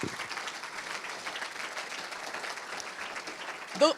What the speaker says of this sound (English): So let's have another round of applause